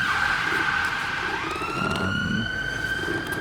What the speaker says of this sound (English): The siren's just started going as I press record.